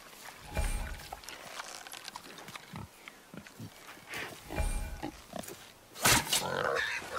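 A boar grunts and snorts in the God of War video game, a string of rough low bursts with scuffling movement, closing with a louder squeal near the end.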